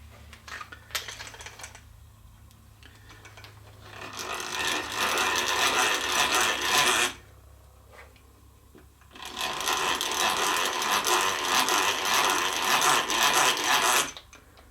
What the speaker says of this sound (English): And then we'll just give it a little bit of a countersink.